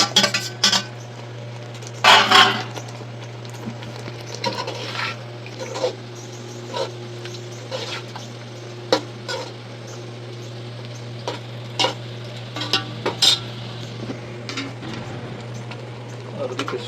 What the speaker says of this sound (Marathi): आता आपण चिकन याच्यात टाकत आहोत